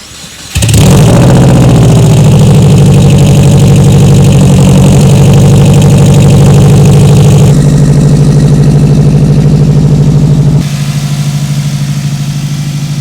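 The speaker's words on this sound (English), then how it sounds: "what I can do is I can prime the turbo now and start the car." A Subaru Forester XT turbo engine fitted with new STI parts cranks and fires abruptly, then settles into a loud, steady idle with a strong droning tone, stepping down slightly in pitch twice as it settles.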